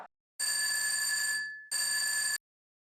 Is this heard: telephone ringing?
yes